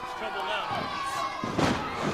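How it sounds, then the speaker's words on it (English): A professional wrestler is body-slammed onto the ring mat with a heavy thud, amid continuous crowd noise and excited commentary during a wrestling match. "Slams him down."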